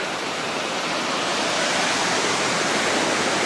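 Steady, full roar of Waugh Creek Falls, continuous rushing water with no pauses.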